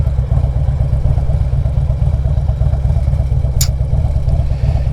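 Harley-Davidson Big Twin 96 motorcycle engine idling with a steady low, lumpy throb close to the microphone, continuous and alone without talk.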